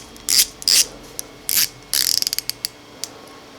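The rotating bezel of an Invicta Sea Base watch is turned in short bursts of crisp ratcheting clicks, followed by a few single clicks, all close and isolated.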